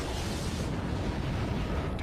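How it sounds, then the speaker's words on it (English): Explosion in a Star Trek film, a dense, continuous roaring rumble with a heavy low end throughout, loud and close, with no speech. "Target that explosion and fire."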